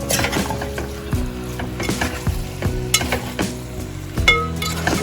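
Chicken biryani masala with coconut milk stirred in a cooking pot, giving rhythmic metallic ladle scrapes and knocks against the vessel over a low sizzle, close up and with no speech.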